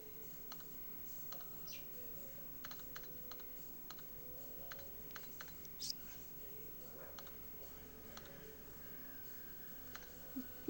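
Soft, irregular key taps come from typing on the keyboard of an InnoTab children's tablet, faint and scattered over a low steady background hum.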